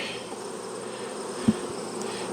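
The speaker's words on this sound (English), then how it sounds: "Oh, these bees on the bottom, all hanging out." Bees hum around a hive box in a low, continuous drone that stays steady throughout, with one faint knock midway.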